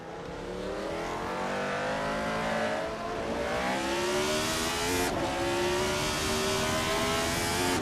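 A field of race cars, led by a 1975 Brabham BT44B, launches at the start of a Tsukuba race in a racing game. Several engines rev and rise in pitch together, loud and continuous, with shifting tones as the pack accelerates away.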